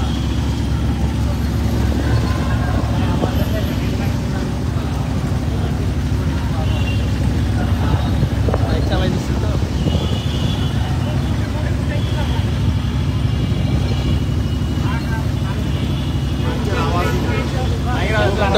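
Motorcycles of a large political rally showdown in Dhaka drone steadily, a thick continuous engine roar that never lets up, with a crowd's voices and a reporter talking over it.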